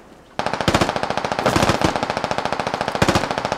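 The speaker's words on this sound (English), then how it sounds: "Look for where the machine guns are coming from." Rapid, loud machine gun fire in the military shooter game Squad, a continuous rattling burst of evenly spaced shots running almost the entire time, close and without voices.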